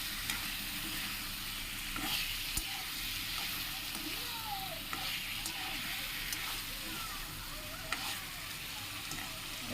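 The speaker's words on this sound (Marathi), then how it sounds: "टाकले मच्छी तेलामध्ये फ्राय करायला." Fish frying in hot oil with turmeric and ginger-garlic paste gives off a steady, dense sizzle with crackling pops throughout, close and continuous, with faint background voices now and then.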